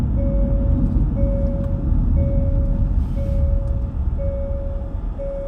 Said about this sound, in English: It's doing like the seatbelt thing.